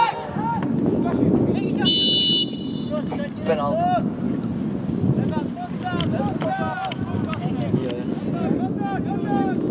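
Strong wind buffets the microphone outdoors at a youth football match, a steady low roar running under the whole stretch while players and onlookers talk and shout nearby.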